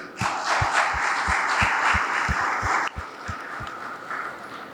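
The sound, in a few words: students applauding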